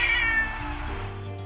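A street cat lets out a single drawn-out, whining meow close by, fading into a low rumble in the background.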